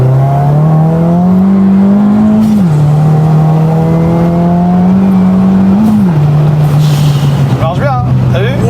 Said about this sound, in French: Quand t'entends le turbo, tu entends?